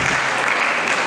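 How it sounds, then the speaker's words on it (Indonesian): An audience at an Isra Mi'raj religious gathering in Indonesia applauds, a short, dense burst of steady clapping from many hands. "tepuk tangan untuk semuanya"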